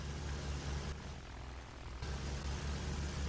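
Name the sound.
bomber plane engine in Battlefield 1 video game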